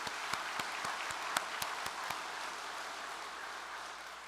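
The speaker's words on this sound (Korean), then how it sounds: "참어머니께 감사의 큰 박수를 올려주시기 바랍니다" Sparse, scattered clapping from a distance at a Korean church gathering, a handful of distinct claps early on that thin out into a quiet room.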